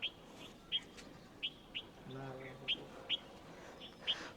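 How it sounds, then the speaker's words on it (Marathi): Village morning birdsong: short, sharp chirps repeat at irregular intervals over a quiet background, with a brief low hum in the middle. "पक्ष्यांचे आवाज येतात"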